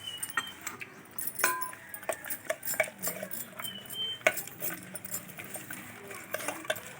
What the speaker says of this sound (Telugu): బాగా కలపమ్మ.